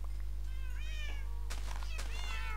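Several short, high-pitched cat meows in Minecraft, rising and falling, over a steady low electronic hum.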